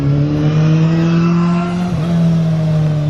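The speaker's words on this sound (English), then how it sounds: "We've got some bikes that are kind of hooning up" Motorbikes hooning and revving on a winding Tokyo mountain touge road, a loud close steady engine drone with a brief dip in pitch midway, no talking.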